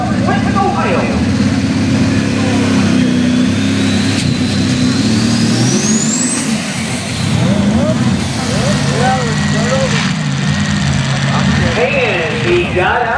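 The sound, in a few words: super stock pulling tractor, Cummins V8 alcohol engine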